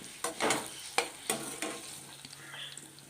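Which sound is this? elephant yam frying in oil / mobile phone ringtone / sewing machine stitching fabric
elephant yam frying in oil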